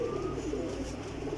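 Homing pigeons cooing close by in a loft, a soft, low, rolling coo that carries steadily through the short moment with no speech over it.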